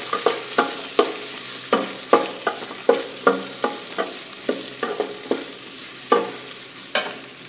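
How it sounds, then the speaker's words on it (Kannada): Green chillies and onions frying in a pan, a steady loud sizzle close up, punctuated by regular scraping clicks of a spoon stirring, with no voices. "ಹಸಿಮೆಣಸಿಕಾಯಿ ಮತ್ತು ಇದು ಈರುಳ್ಳಿ ಎರಡು ನೀಟಾಗಿ ಬೇಯಬೇಕು."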